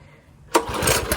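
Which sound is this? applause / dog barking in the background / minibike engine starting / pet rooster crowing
minibike engine starting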